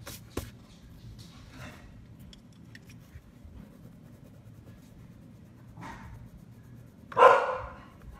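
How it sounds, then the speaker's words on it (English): A dog barks in the background, an excited bark near the start and a louder burst at the end, with faint softer sounds in between and no talk. "Please excuse my dog in the background."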